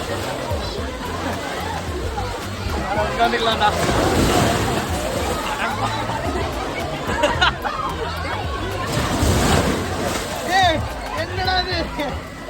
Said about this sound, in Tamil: இந்த ஸ்விம்மிங் பூலுக்குள்ளே வந்து அந்த தண்ணி வந்து அலை மாதிரி வந்துகிட்டே இருக்குங்க